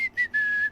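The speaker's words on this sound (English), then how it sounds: "Do the whistle without your lips thing one more time." A person whistles using the tongue instead of the lips, producing a few clear high piercing notes with short gaps, close and alone with no talking.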